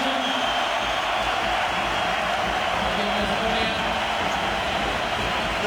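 Basketball arena crowd at a Eurobasket 2015 Group D game between Estonia and Belgium, a dense, steady roar of many voices that stays loud and unbroken throughout.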